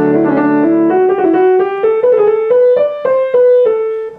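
Solo piano plays a quick ornamental turn from a Beethoven sonata (Op. 2 No. 3), then a run of clear notes climbing step by step, each ringing briefly.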